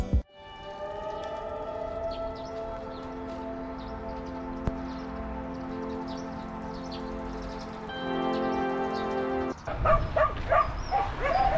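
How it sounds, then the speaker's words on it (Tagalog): Dogs outside a convenience store in Japan give long, drawn-out tonal howls and whines that sound almost siren-like, then break into sharper yips and barks near the end, moderately close. "Mga aso rin pala dito."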